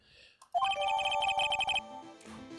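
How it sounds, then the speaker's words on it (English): A cell phone ringtone from the Phoenix Wright: Ace Attorney video game rings loud and close, a quick run of bright repeated electronic notes lasting about a second, followed by a lower melodic game tone. "I got a call at the same time that I picked up this phone."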